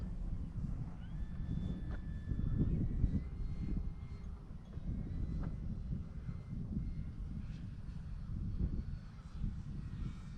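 An FGFRC Draco RC airplane comes in for a STOL landing, its electric motor a faint whine that shifts pitch over outdoor wind noise, heard from a distance without talk.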